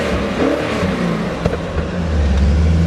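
A 2000 BMW M5 engine with an Eisenmann exhaust runs near the idle point, a deep steady droning rumble that swells slightly toward the end, close and loud.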